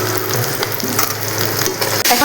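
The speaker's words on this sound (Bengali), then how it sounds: "এইভাবে আমি সব মাছগুলো একে একে ভেজে নেব।" Tilapia fish frying in hot oil gives a close, steady sizzle with fine crackles and a brief scraping clatter near the end.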